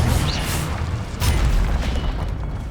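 Incendio fire spell cast in Hogwarts Legacy on PS5, a loud, dense roaring burst with a sharp onset midway through, layered over constant booming game effects and no voices.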